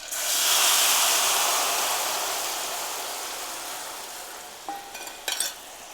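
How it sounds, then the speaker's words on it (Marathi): Cornflour batter dropped into leftover festival frying oil in a kadhai, giving a loud bubbling sizzle that swells quickly, then slowly fades, with a couple of sharp metallic clinks near the end. "आपल्याला हा कढईमध्ये सोडायचा आहे"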